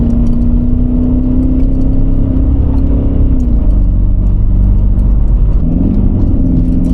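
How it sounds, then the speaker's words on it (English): S-Class Mercedes-Benz of an older era driven on a dirt track, its engine a loud, close, steady low hum with small pitch dips and rises as the throttle changes, over a constant rumble of tires on the ground. "Just POV driving on a dirt track."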